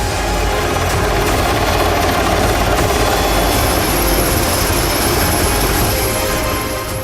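A naval helicopter operating from the deck of INS Visakhapatnam, a Project 15-B destroyer, gives a loud, steady broadband roar with low rotor thump that holds for the full stretch without let-up.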